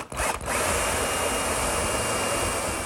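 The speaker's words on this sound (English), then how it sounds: "I'll drill a 1/4-inch pilot hole, but not all the way through" A power drill whirs up after a couple of brief starts, then runs at a steady high-pitched whine as it bores a quarter-inch pilot hole into wood.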